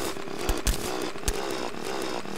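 A drill grinding through snowy ground in Terraria, a continuous buzzing whine with short louder crunching bursts as blocks break, close and steady throughout.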